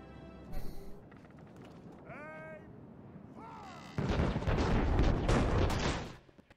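Ribauldequin volley in Medieval 2 Total War during a siege at a castle gate: a dense, loud burst of many overlapping gun blasts erupts mid-scene and rumbles for about two seconds before fading, after quieter battle ambience with brief whistling calls.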